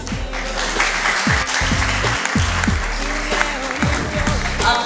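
Audience applause after a young woman's project presentation at a women's entrepreneurship café event, steady dense clapping with a few voices and a low rumble underneath throughout.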